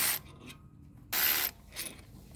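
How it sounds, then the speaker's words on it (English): A hand ratchet working on the brake caliper-to-knuckle fasteners of an Alfa Romeo Stelvio, with short bursts of ratcheting clicks and rasps separated by pauses, close and moderately loud. "Remove the brake caliper to knuckle fasteners."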